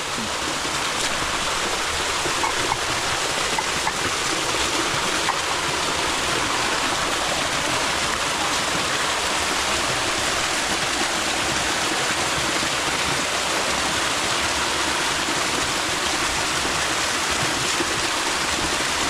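Water from a large spring in a forest gushes steadily, a constant close rushing and splashing that never changes, with no voices.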